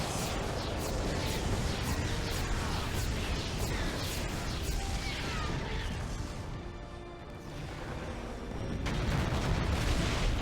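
Dense, continuous battlefield noise from StarCraft II: booming artillery blasts, crashes and scattered gunfire rumble almost nonstop, briefly easing before swelling again.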